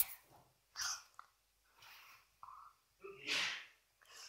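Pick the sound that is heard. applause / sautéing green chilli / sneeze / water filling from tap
sneeze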